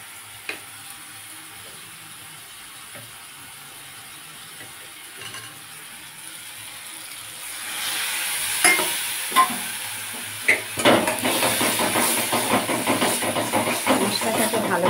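Masala and a splash of water hitting softened tomatoes in a hot pan for a vegetarian cauliflower roast, starting with quiet stirring and light scraping, then bursting into loud hissing sizzle with sharp crackles that keeps going.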